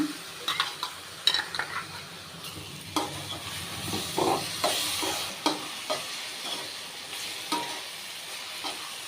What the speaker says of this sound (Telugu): టమాటా పచ్చివాసన పోయే వరకు వేపుకోవాలి